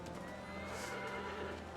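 A horse whinnies briefly in the video game Shadow of the Colossus over a dense, steady background noise, faint and somewhat distant.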